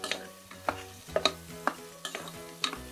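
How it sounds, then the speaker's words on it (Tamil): Peas and potatoes stirred into a pan of sautéed onion and tomato, a spoon scraping and tapping the pan in a quick irregular rhythm under a faint sizzle, close and quiet. "இதுல பட்டாணி, உருளைக்கிழங்கு போட்டு வதக்கிக்கலாம்."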